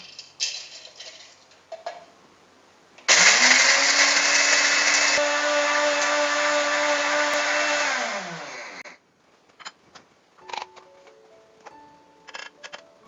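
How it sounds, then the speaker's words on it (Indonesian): A household blender grinds broken pieces of dried Chinese yam into flour, a loud steady whirring roar that runs for about six seconds before winding down, with quieter clicks and handling sounds before and after. "Jadi ubi cinanya pertama-tama akan saya giling jadi tepung dulu ya."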